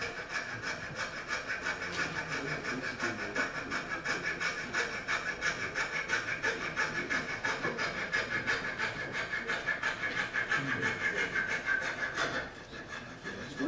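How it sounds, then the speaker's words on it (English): Steady, loud abrasive rasping of wood being worked, continuous with an even scratchy rhythm, stopping abruptly near the end. "you can see how I start the sanding on it"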